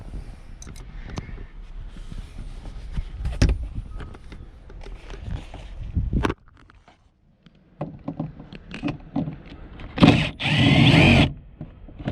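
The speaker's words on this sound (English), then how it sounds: "T25, so you'll need the appropriate screwdriver or bit to remove them" A screwdriver works T25 screws out of a Honda Civic sun visor, giving close, scraping and clicking tool noise with a short, louder whirring burst near the end.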